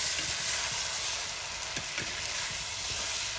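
Okra and spices are mixed in a pan over an outdoor wood fire, giving a steady frying hiss and sizzle with a few soft scraping strokes of a spoon, close and without speech.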